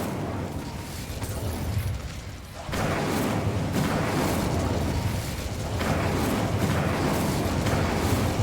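A fire spell cast in the video game Hogwarts Legacy, a dense roaring burst of flame that dips briefly and then surges again, sustained and loud with no talk.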